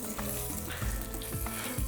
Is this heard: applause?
no